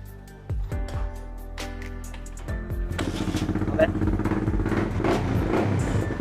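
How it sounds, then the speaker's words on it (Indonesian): A motorcycle fitted with an aftermarket racing exhaust cranks a few times, catches, and settles into a loud, rough idle with a racing exhaust burble. "Coba kita nyalain mesin."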